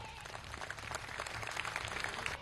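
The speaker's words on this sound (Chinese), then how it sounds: "我们用掌声把他送到待定区" Studio audience applause for singing contestant Zhang Shuai at a military talent show final, steady dense clapping continuing throughout without a break.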